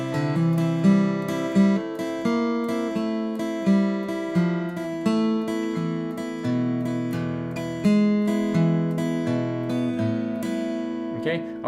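Acoustic guitar playing an intro riff, with brushy upstrums across the two thinnest strings over picked bass notes in a steady, gently rocking rhythm, close and clear with no talk.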